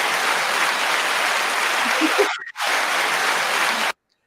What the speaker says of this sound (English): we just offered up applause.